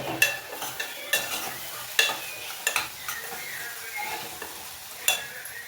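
Bitter gourd stirred and fried in a pan at home, with a soft continuous sizzle and sharp, irregular scrapes and clinks of a spoon against the pan, close and fairly quiet.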